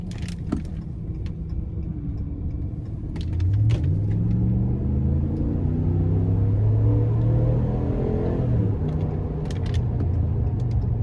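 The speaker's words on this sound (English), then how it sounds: "I just love the sound you get from the engine bay, the exhaust system" A 2018 Ram 1500 Night Edition with a Hemi V8 and 8-speed builds a deep, steady engine and exhaust rumble from inside the cab, swelling after a quieter start and holding as the truck pulls on, no talk.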